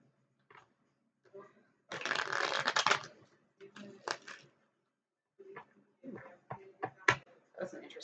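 Oracle cards being shuffled by hand in a few separate bursts: one dense riffle-like rustle near the start, then shorter flicks and taps, close and fairly quiet, with a voice speaking briefly at the start.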